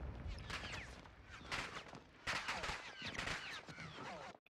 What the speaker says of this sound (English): Even though I'm dead, I still hear the gunshot.